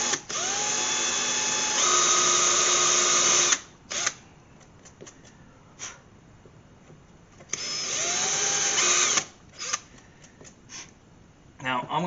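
A power drill drilling into fiberglass on a car wing whines loudly in two bursts of a few seconds each, spinning up and cutting, with brief quieter pauses between.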